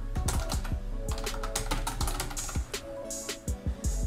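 Typing on a computer keyboard at a desk, a close, steady run of crisp key clicks and taps continuing throughout without speech.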